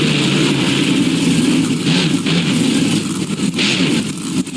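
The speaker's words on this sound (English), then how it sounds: "It sounds like a zombie monster truck." A monster truck engine in a BeamNG Drive racing game, a steady loud low rumble with revving swells held throughout, no talk over it.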